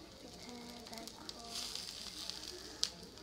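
Momo frying in a pan, a soft, fairly faint sizzle with a brighter hiss swelling midway and a sharp crackle near the end; faint speech-like tones sit underneath.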